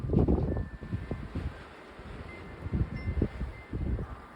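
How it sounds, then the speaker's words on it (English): Strong wind on a windy, rainy day comes in gusty low rumbles that rise and fall across a few seconds, fairly close and unbroken by speech. "It's just a really windy day and rainy day."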